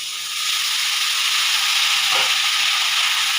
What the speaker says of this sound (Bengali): আমি গ্যাসটা জোরে করে নিলাম পেঁয়াজটা আর ক্যাপসিকামটা হালকা হালকা ভাজা হয়ে গেছে এবার আমি চিকেনটা দিয়ে দেবো